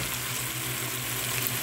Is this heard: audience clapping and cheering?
no